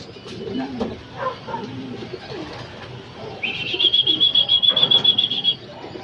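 Racing pigeons arrive at the loft during a race, their wings beating in a loud, quick flurry of flapping near at hand, with soft cooing and chirps in the background.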